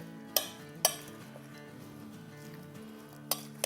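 A spoon stirs garlic, cumin and curry leaves in hot oil in a metal pan, with a few sharp clinks against the pan over a low steady sizzle, close and without talk.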